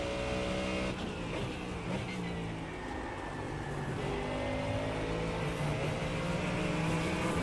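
Race car engine in a sim racing game at Watkins Glen, a continuous mid-pitched drone whose tone steps and shifts as the engine revs change, steady and close throughout.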